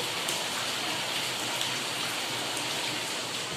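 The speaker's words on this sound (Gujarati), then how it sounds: "જો કેવો વરસાદ વરસી રહ્યો છે" A downpour drums steadily on nearby surfaces, an unbroken wash of rain noise with no talking.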